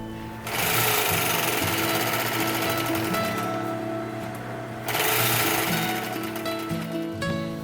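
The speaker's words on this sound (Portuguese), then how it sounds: "eu vou lá na máquina passar esse overlock" Overlock sewing machine stitching a seam on a circular godê skirt, a steady fast mechanical whirring hum in two long runs with a short pause between, close and loud.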